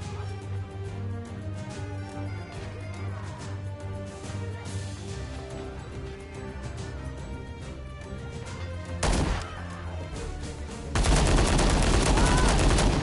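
Video game gunfire crackling through the stretch, steady overlapping bursts and shots under a constant game backdrop, ending in a louder, dense barrage of rapid fire.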